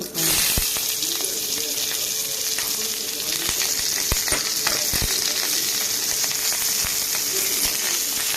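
Chopped onions frying in a pan after a tempering of mustard seeds and cumin, a steady loud sizzle and crackle running throughout with scattered pops.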